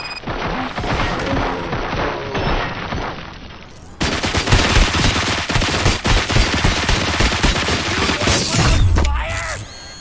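Rapid bursts of gunfire in the RoboCop: Rogue City video game, loud and sustained with mechanical clatter and booms, a brief quieter stretch before the firing intensifies.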